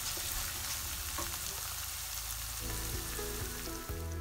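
Homemade blended chili sambal frying in a pan over the stove, a steady close sizzle with faint stirring scrapes and no talking.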